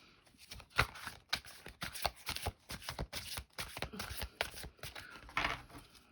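Tarot cards drawn and laid out on a table, a quick series of close, crisp snapping and sliding card sounds with uneven rhythm, no talking.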